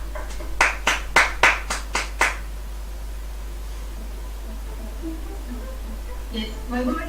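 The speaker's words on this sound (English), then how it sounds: "We request you all to give a big round of applause for all our finalists" A short run of about seven evenly spaced hand claps rings out close by at a school elocution competition for finalists, followed by several seconds of quiet room noise.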